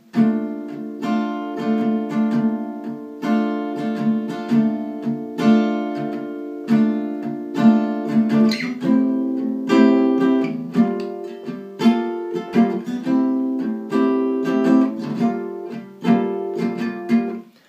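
Guitar strums a repeating chord progression from a song, each chord struck and sustained in a steady rhythm, clear and close with no voices.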